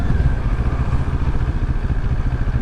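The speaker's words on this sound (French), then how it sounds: "le moteur manque peut-être un peu de rondeur" A 2024 Moto Morini Seiemmezzo SCR motorcycle engine running below 3000 rpm, a steady low, throbbing rumble with a rhythmic mechanical pulse, close and continuous.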